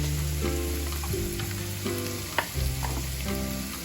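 Curry leaves crackle and sizzle in hot oil as chira pulao is stirred in the pan, a steady frying hiss with soft scraping strokes and occasional louder pops, close and continuous throughout.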